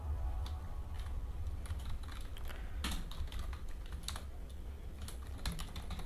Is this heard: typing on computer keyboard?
yes